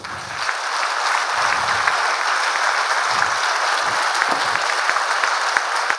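Applause from an audience at a chief-guest event at Kumaraguru Institutions, steady dense clapping that stays loud and even throughout, with faint voices underneath at moments.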